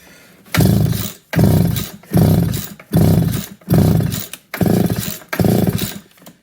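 A McCulloch Timber Bear chainsaw is pull-started again and again, seven loud rasping cord pulls in a steady rhythm, each a short burst of engine turnover with brief gaps between, close and alone.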